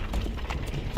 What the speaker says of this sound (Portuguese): Olha lá, o cavalo virando sozinho.